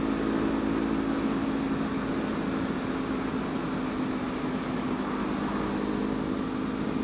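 Honda CB500F motorcycle with a loud aftermarket exhaust pipe riding on the road, a steady droning engine hum buried in constant wind roar, with no talking.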